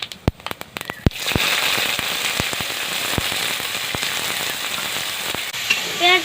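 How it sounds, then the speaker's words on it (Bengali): Chopped onions drop into hot oil with fried whole spices: a few sharp pops, then a sudden loud, steady hiss of sizzling that continues close and dense, with occasional crackles and a brief scrape near the end. "এবার আমি দিয়ে দেবো পেঁয়াজ কুচি।"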